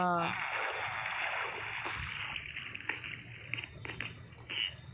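Water splashing in Minecraft, a steady rushing, splattering wash that fills the whole stretch, with a few soft knocks near the end.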